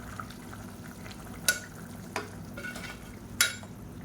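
A spoon stirs a biryani mixture of rice and tomato in a pot with soft scraping over a quiet sizzle, broken by three sharp clinks of metal against the pot spread across a few seconds.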